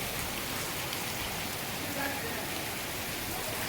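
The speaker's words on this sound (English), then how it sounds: "It's not normal for the rain to happen like this here." Heavy rain pours down outside a house near a road, a dense, loud, unbroken roar of drops hitting surfaces.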